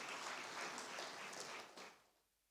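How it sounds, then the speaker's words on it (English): Faint, distant applause from an audience for the President at a climate change event, a brief burst of clapping that tapers off into quiet. "Mr. President deserves a round of applause for this."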